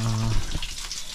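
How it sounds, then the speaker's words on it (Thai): Water trickles gently inside an abandoned cave, a soft close splashing flow with a low hum at the start that fades into a quieter, even trickle. "ยังมีน้ำอยู่นะครับผมนี่ครับแต่น้ำไหลเบาอยู่นะครับเห็นไหมครับน้ำ"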